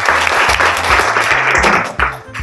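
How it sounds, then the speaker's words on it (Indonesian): A classroom of students claps together, dense and loud, for a couple of seconds before it thins out at the end. "Oke, berikan aplaus."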